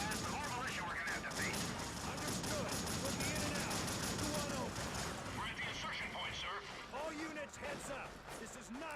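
Rapid bursts of gunfire crackle and pop, mixed with mechanical clicks, while voices talk over the shooting; sounds like game combat.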